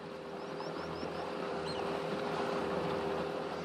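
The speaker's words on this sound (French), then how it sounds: "Chaque jour, il effectue des rondes dans l'estuaire avec son bateau." A steady motorboat engine drone over an open estuary in Honduras, with faint wind and a few high bird chirps, continuous and moderately near.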